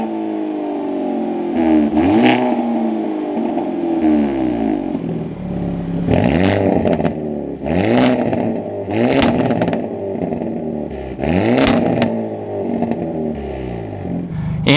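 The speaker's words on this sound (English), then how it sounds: "Let's fire this up though, get those exhaust clips, and we can hear what the end sounds like." A 2023 Hyundai Elantra N fires up and its exhaust is revved repeatedly, loud close blips that rise and fall in a series of sharp rev sweeps over a steady idle, with no speech.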